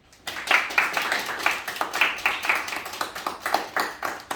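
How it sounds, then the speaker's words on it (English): A small group claps after a resolution passes at a student Model UN session, a quick burst of close, uneven handclaps that starts abruptly and continues for a few seconds, with no talking. "Clapping is in order."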